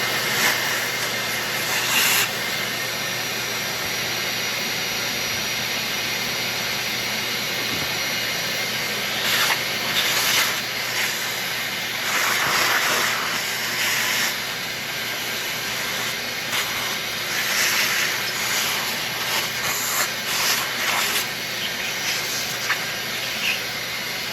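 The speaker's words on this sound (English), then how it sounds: "So we'll just take and vacuum out all that dust." A vacuum runs with a steady, loud high hiss while cleaning out dust in a small workshop during a Kohler flywheel repair, with brief surges in intensity as the nozzle moves.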